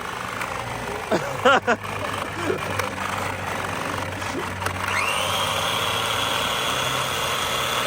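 A Traxxas Big Foot 4x4 RC truck's electric motor whirs with a steady mechanical buzz that rises into a sustained higher whine in the second half, with brief voices talking early on.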